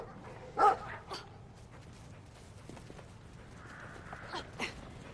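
A dog barks a few times in the video game Brothers: A Tale of Two Sons, with one sharp bark early and a couple of fainter ones later over a low ambient game background.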